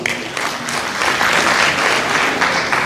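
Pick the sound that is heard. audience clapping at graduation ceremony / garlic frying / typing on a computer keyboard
audience clapping at graduation ceremony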